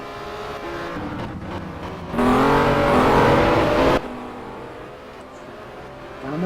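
Race car engines in the Simraceway racing video game, with a loud burst of a car revving past for about two seconds in the middle, framed by quieter engine drone before and after.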